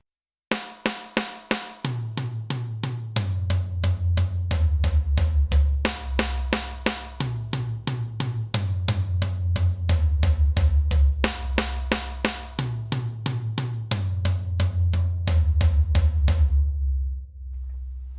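Sixteenth notes played in groups of four around a drum kit, moving from high toms down to low toms in repeating sweeps, steady and close with crisp attacks and ringing low drums, no voices.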